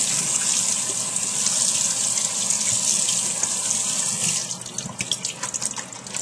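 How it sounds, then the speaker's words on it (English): Tap water gushes steadily over cooked lasagna pasta sheets in a sink, loud and close. The flow turns to a patchier splashing and dripping near the end. "So give it a nice little rinse."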